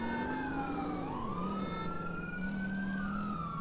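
A police motorcycle siren in Grand Theft Auto: San Andreas wails, sweeping up and down continuously, close and loud, with engine rumble beneath and no talking.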